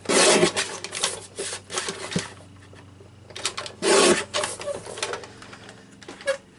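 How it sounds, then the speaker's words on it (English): Paper cardstock is sliced on a paper trimmer in repeated scraping, rubbing strokes, with short bursts of blade and paper friction separated by quiet pauses. "So I'm just going to trim this piece down."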